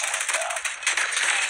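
Rapid automatic fire from the Switchblade X9 in a shooter game, a dense steady stream of shots held close and loud for a moment.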